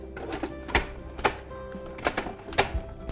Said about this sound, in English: Put the lid on the machine.